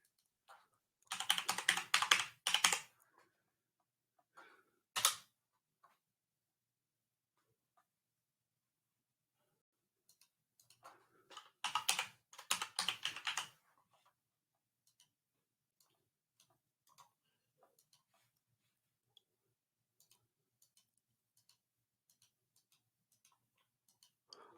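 Fast typing on a computer keyboard in two quick bursts of clicky keystrokes, separated by long near-silent gaps with only a few scattered taps.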